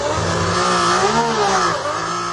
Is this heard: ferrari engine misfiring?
yes